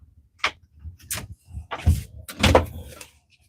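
A door being locked at home: a series of close, separate knocks and clunks with rattly handle movement, about five distinct bursts spread over a few seconds, without talk.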